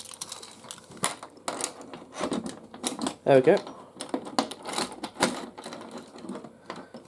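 Keys working the lock of a Ziton ZP2 addressable fire alarm panel, giving scattered metallic clicks, jingles and a brief scraping rattle up close, with someone talking over them.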